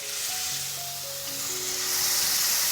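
Tomato paste sizzles steadily in a pan with fried onion, garlic, ginger and green chili while cooking okra curry, a continuous close hiss with faint tonal background hum and no talking.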